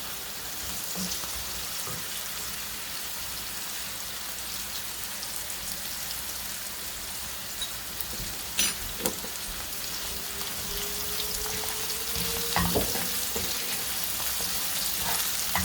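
Green chilies and cumin powder fry over a low flame in a pan, with a constant hissing sizzle and a few soft stirring knocks.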